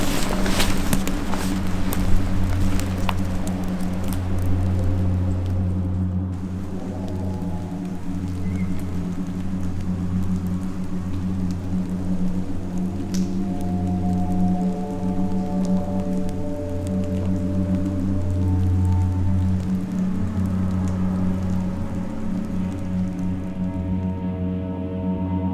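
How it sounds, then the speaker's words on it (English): Steady rain patters continuously on a surface at a campsite for the whole stretch, with a low droning hum underneath and no voices. "As we sat around the campfire trying to stay warm and dry in the rain"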